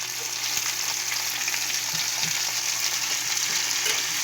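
Sliced bitter gourd and tomato being stir-fried in a pan, a steady close sizzle with occasional soft scraping and stirring knocks throughout, no voices.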